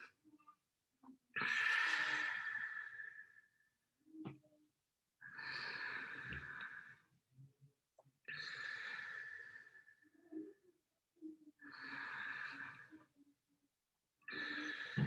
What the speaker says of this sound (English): I'm going to take 3 deep breaths